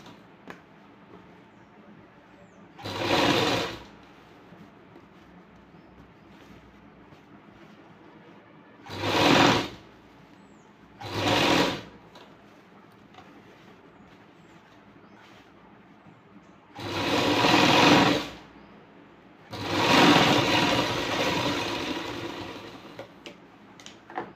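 A sewing machine stitches a blouse armhole in five separate bursts, some short and some a few seconds long, with quiet pauses between them.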